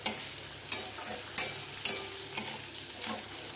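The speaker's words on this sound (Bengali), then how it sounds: "এই আদা বাটাটা দিয়ে ভালো করে কষে নেবে।" Ginger paste frying in a pan for a pumpkin dish, a soft continuous sizzle broken by several sharp scrapes and clicks of stirring, close and moderately loud with no talking.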